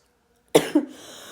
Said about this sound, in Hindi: सॉरी, खांसी आ रहा है।